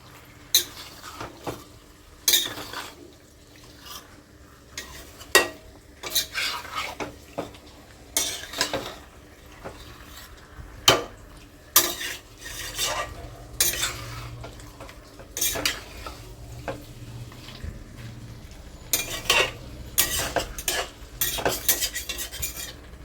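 Chicken and fresh vegetables being stirred in a pot, with repeated scraping and clinking of a spoon against metal at an uneven rhythm over a soft steady simmer, close and fairly loud.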